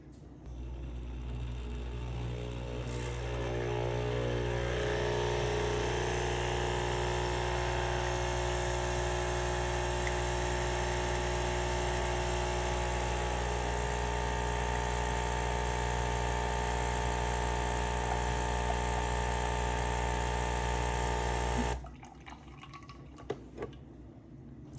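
An espresso machine runs a descaling cycle with dissolved cleaning tablets, its pump droning steadily and loudly while water flows for over twenty seconds before cutting off abruptly.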